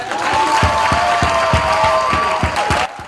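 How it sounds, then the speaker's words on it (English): A crowd applauds steadily, dense clapping with a few sharper claps standing out, close and loud, ending abruptly near the finish. "Here we have the big round of applause for Tete Carruthers."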